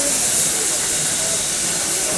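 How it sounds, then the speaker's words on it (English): Steam jets blow coal across the fire inside the firebox of NKP 765, a steam locomotive, making a loud, steady, close hiss that runs unbroken throughout. "Then those jets that you see blowing out distribute the coal out over the fire."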